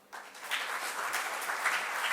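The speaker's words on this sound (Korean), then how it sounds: "수고해 주신 정가병 총장님께 다시 한번 큰 박수 부탁드립니다" An audience at a formal ICT forum keynote session breaks into applause, a brief burst of clapping that rises quickly and holds as a steady, moderately distant patter.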